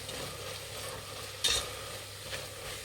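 Spices including turmeric and garam masala are mixed into a lima bean rice bath in a pan. A soft, steady scraping hiss runs throughout with one brief clink midway, and no one speaks.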